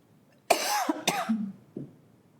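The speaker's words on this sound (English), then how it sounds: "cannot stop the cough." Two harsh, close coughs in quick succession, followed by a softer short cough, all loud against a quiet background.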